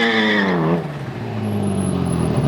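Ferrari F40 performing a burnout, a high revving engine scream that drops sharply after about a second, then settles into a rough, loud roar with a faint whine above it.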